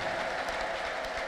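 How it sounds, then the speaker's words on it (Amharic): Church congregation clapping at an Ethiopian prophetic service, a brief, fairly faint patter of applause. "ይህ ጭብጨባ ግን በጣም የደከመው ሰው ጭብጨባ ነው።"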